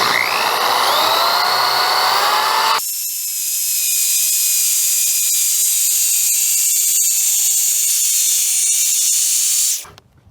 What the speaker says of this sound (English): I can let the back side of my drill just ride against this piece of wood here